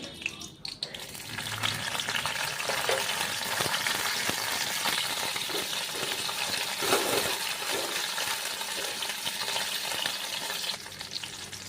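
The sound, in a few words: cashews and raisins frying in hot ghee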